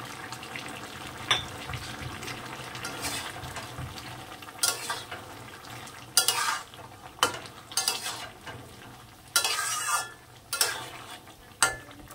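Vegetables with a few fried prawns added simmer and sizzle in a pan, with occasional sharp clinks and scrapes of a spoon against the metal over a steady low bubbling.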